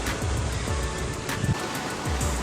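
Sea waves at Maragondon Sanctuary Beach, a broad rushing surf with gusty wind buffeting the microphone and a few low thumps, steady and close for a couple of seconds with no talk.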